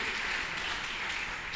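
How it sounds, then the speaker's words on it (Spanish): Applause from a church congregation during an evening forum, a soft, distant, even wash of clapping that holds steady for a moment. "denle un fuerte aplauso al Señor en esta noche"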